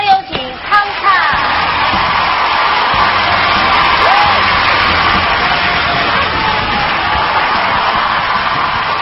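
A studio audience of young men screams and cheers as a Chinese folk singer walks onto a television talk-show stage, a loud, sustained roar of crowd noise filling the whole stretch.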